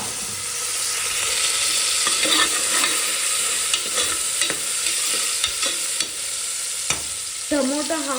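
Tomatoes sizzle loudly in hot oil for bisibele bath while a spoon scrapes and taps the pan at uneven intervals, a close, constant frying hiss with no talking.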